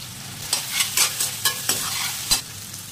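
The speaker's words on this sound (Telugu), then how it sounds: "మంచిగా ఫ్రై నెక్స్ట్ మిక్స్ చేసుకోవాలి" Onions frying with salt in oil, stirred in quick strokes, several bright scraping clicks over a continuous close sizzle, and nobody speaking.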